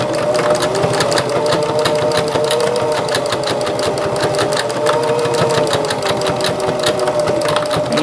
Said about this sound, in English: get it even, and just make sure that they're even, and just stitch it.